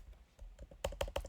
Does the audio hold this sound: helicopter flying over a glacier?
no